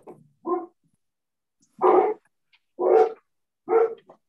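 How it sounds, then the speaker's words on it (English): Dogs bark from a distance up the house, four or five separate sharp barks spaced about a second apart with silence between, fairly clear and alone. "Well, my boys are barking up there."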